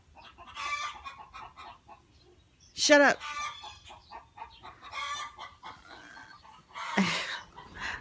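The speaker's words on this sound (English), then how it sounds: "Chickens!" Backyard chickens cluck and squawk in bursts, with a loud sharp squawk near the start and another later, close by, while a person shouts briefly over them.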